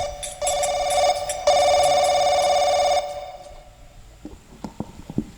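Telephone ringing loudly nearby in two long electronic ring bursts, followed by quieter clicks and faint background sounds after the ringing stops.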